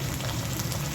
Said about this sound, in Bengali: পেঁয়াজের মধ্যে দিয়ে দিচ্ছি আদা রসুনের পেস্ট